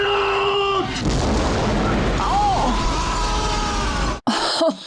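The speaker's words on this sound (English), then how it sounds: "I love a space explosion, but I don't want to see the Enterprise all blown up." The Starship Enterprise blowing up in the film Star Trek III: a loud, sustained rumbling explosion with crackling debris, preceded by a brief tone and ending in a sharp cut followed by a muffled thud.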